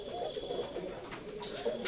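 Pigeons of several breeds coo in a village loft at Amgoria, Purba Bardhaman, with soft rolling calls repeating close by and no talk.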